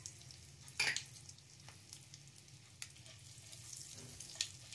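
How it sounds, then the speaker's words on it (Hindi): Cumin seeds and asafoetida fry in a pan for a jackfruit curry, giving a faint, steady sizzle broken by a few soft crackles and pops, with no talking. "जीरा, इनको अब हम भून लेंगे। इसी टाइम डाल देंगे इसमें हम हींग।"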